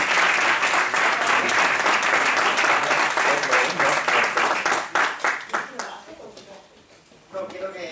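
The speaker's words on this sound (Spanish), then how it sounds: "Así que pido para él un fuerte aplauso." Strong audience applause at a public talk, dense rhythmic clapping from a crowd sustained for several seconds before tapering off into a few claps, with a voice beginning near the end.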